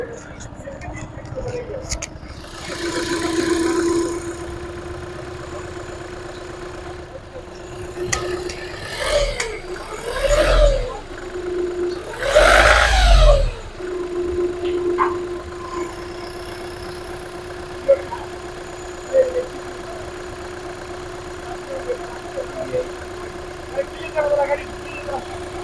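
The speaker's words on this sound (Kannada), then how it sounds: "ಇಂಜಿನ್ ಕೂಡ ಸ್ಟಾರ್ಟ್ ಮಾಡಿದ್ದೀನಿ" A Skoda Fabia car engine idles with a steady, even hum throughout, broken by louder rattling and knocking bursts, while someone talks at length over it.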